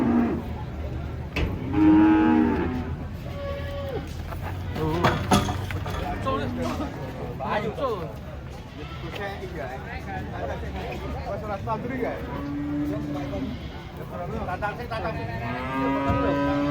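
An old, agitated Javanese cow being unloaded from a truck moos repeatedly, with several drawn-out calls spread across a scene full of nearby people talking and general commotion.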